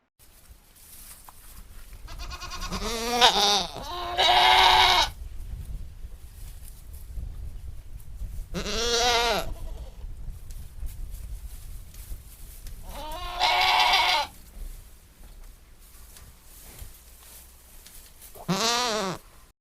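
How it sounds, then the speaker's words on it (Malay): Loud, close goat bleats repeat in separate bursts, two of them back to back, with quiet gaps between each call, played during an animal-guessing game for children. "Tepat ya, suara kambing."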